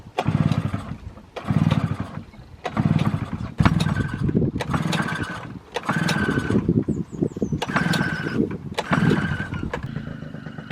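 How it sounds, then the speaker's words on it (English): Small outboard engine, with a spark plug fouled by gunk, pulled repeatedly: about eight loud, close bursts of sputtering rev, each catching briefly and dying before the next pull, with no talk. "the little outboard engine"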